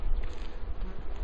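Honey bees buzz around a top bar hive in a short, close, steady drone with slight wavering swells.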